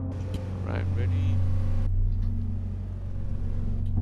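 A Bentley Bentayga and other cars launch off the line at a drag racing event, a loud engine roar with a rising whine that drops after two seconds as the cars pull away, amid voices.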